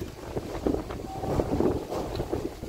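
Strong wind gusts across an open rooftop in the evening as a storm rises, buffeting the microphone in uneven rumbling bursts that swell and fade without pause.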